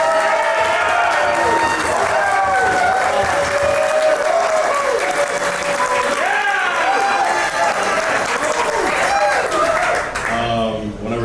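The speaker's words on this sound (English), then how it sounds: "Let's give him a round of applause as well." Sustained loud audience applause with clapping and some cheering for a rugby player at a team winter party panel event, continuous for about ten seconds before fading at the end.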